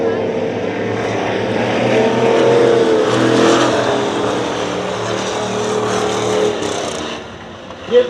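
Race cars roar around the Dirtona Raceway dirt track in a steady loud drone of engines, rising and falling as they pass, with a voice faintly audible beneath before the noise drops away near the end.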